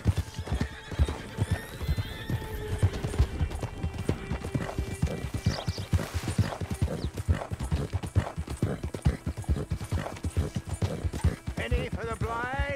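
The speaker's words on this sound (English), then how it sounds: "Horses." Rapid, steady clip-clop of horse hooves throughout in Red Dead Redemption 2, with a horse whinnying near the start and voices talking over the rhythmic hoofbeats.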